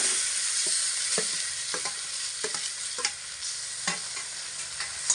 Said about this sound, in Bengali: এবার এর মধ্যে সমস্ত ফুলকপি আলু লঙ্কা টমেটো মাখাটা দিয়ে দিচ্ছি।